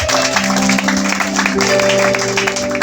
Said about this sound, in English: Can we give a clap offering unto Jesus?